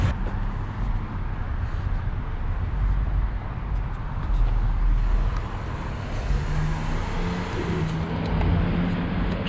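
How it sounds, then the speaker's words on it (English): A car drives through a street at night, a steady road rumble with tyre noise that holds for about nine seconds, fairly loud and close, with no voices. "Oops, got a car going through there."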